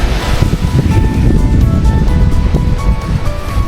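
Ocean waves wash onto the beach at Muscat Bay, a loud, steady rush of surf with wind buffeting the microphone.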